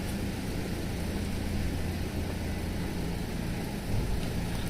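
Steady rain falls outdoors along a town shopping street, a continuous broadband hiss with low rumbling traffic-like noise underneath, fairly loud and unbroken throughout.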